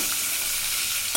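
Tempering of asafoetida and crushed garlic sizzles in a hot pan for a Konkani colocasia-leaf gravy, a brief, steady close-up hiss of frying oil with no voices.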